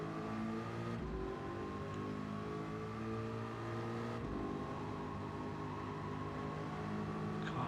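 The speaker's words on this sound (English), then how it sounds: "You've got to remember, we have got a lump of a V8 at the front" A V8-swapped race car in Gran Turismo 7 drones at a constant rpm, its steady engine note held through the run, with brief shifts in tone near the start and middle and no talking.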